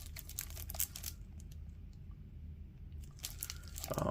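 Foil wrapper of a 2025 Sage football card pack tearing open, with crisp crinkling bursts near the start and again near the end, separated by a quieter stretch of low rustling.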